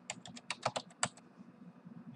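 A password is tapped out on a computer keyboard in a quick burst of about a dozen close, crisp keystrokes. A brief quiet stretch follows.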